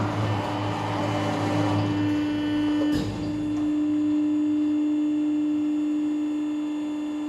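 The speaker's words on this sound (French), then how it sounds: "la machine a fait ses origines machine" A Durma 20.60 press brake moves to its machine origins: a steady electric hum and whine from its drives, a brief thump partway through, then a sustained tonal hum as it settles.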